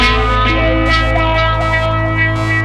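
Electric guitar playing sustained notes through a Zoom MS-70CDR delay effect, repeats trailing behind each strum amid distortion and reverb, loud and close.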